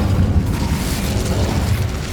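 The Incendio fire spell cast in Hogwarts Legacy, heard as a loud, sustained whooshing roar of flame with low rumbling body. It holds steadily for about two seconds with no clear break.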